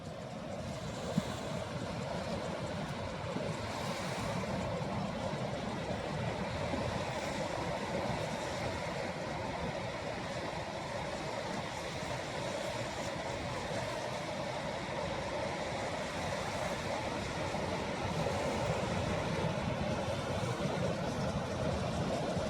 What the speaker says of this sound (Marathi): आवाज ऐका फक्त आता मैयेचा.